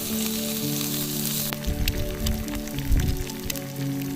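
Egg sizzling and frying in a pan at a camp near Meelmore Lodge, a steady crackling hiss that grows louder after the egg goes in, with faint low rumbles underneath and no talking.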